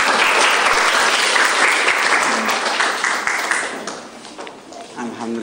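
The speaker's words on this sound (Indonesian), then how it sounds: "Tepuk tangan dulu." A classroom of high school students applauds after a group presentation with loud, dense, sustained clapping. It fills the room for several seconds, then thins and fades toward the end, while voices can be heard faintly underneath.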